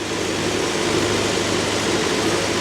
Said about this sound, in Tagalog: Medyo maingay yung bangka